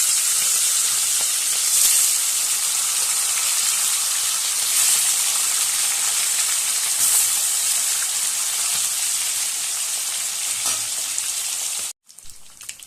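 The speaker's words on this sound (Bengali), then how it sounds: "তেল গরম হয়ে গেছে, এবার মাছটা ছাড়বো।" Fish frying in hot oil in a pan, a steady bright sizzle and hiss that holds for about twelve seconds before cutting off abruptly near the end.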